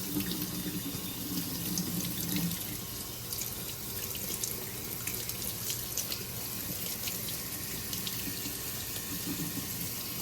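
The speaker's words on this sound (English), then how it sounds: "You just want to go until you're not getting soap bubbles and the water's running relatively clear." Steady running water pours from a tap, rinsing an engine air filter, a constant splashing hiss with faint drips, no voices.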